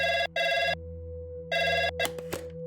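A classic telephone bell rings in two loud, close bursts of a bright electronic trill with a pause between, followed by a couple of sharp clicks as it stops.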